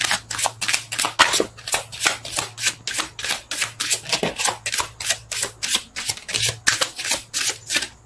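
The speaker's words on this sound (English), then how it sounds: "Shuffle." Tarot cards are riffled and shuffled continuously, a loud close flurry of rapid papery snaps with barely any pause, no speech.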